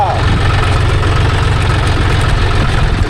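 John Deere 5050D tractor engine running steadily in a dry farm field, a loud, continuous low rumble with no breaks.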